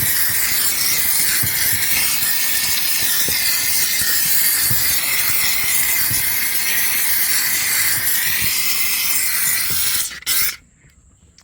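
A steam cleaner sprays during car interior detailing, making a steady, loud, close hiss that runs without a break for about ten seconds, then cuts off abruptly into near silence.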